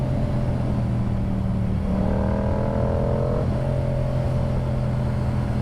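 A Yamaha R7 motorcycle with an unrestricted FTECU tune drones steadily up close, its exhaust note rising in pitch for a couple of seconds as the engine revs, then settling back to a constant hum.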